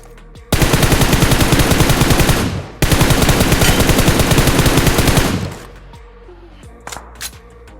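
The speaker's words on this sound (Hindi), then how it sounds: "लेकिन उतने में पोचिंकी से गोली चलती है।" Gunfire in PUBG Mobile (BGMI) at Pochinki: two long, loud bursts of rapid automatic fire with a brief gap between them, then fading to a few scattered faint shots.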